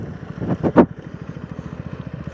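A KTM Duke 160 motorcycle revs in a few quick bursts while riding, then settles into a steady, throbbing engine pulse.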